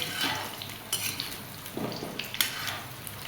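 Amla frying and being stirred in a pan, with a soft steady sizzle broken by scattered clinks and scrapes of a spoon against the metal, close and fairly quiet.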